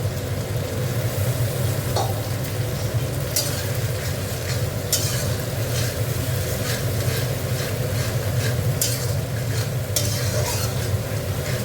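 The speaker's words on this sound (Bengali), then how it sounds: "মশলাটা একটু কষে নিচ্ছি।" Spice paste frying in a pan while being stirred, a dense continuous sizzle with a low rumble underneath and repeated scraping strokes of a spoon, close and steady, no voices.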